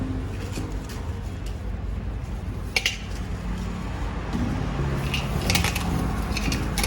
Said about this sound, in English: that's the bejo which is getting broken down